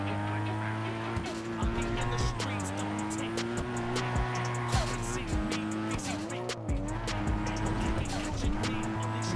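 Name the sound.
car gear change in video game GTA V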